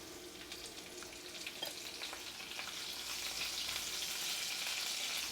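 Steady sizzling of curry leaves frying in hot oil for South Indian beans poriyal, a dense crackling hiss that grows slightly louder and fuller toward the end, with no voices.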